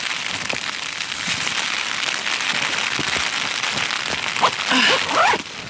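Rain patters steadily on the fabric of a small Snugpak tent during a wild camping night, a dense close crackle of drops with a brief louder rustle near the end and no talking.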